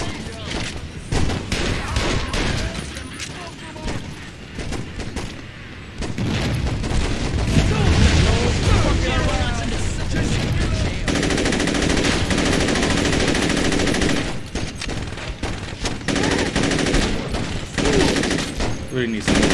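Saints Row 2 gameplay brings dense bursts of machine-gun fire and booming explosions, loud and nearly continuous, with talk mixed in.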